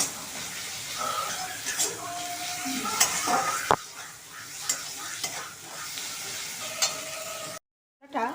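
Spoon scraping and stirring spice masala as it sizzles in a pan for a lote fish curry, with irregular clinks against the pot, close and fairly quiet, ending in a brief silence.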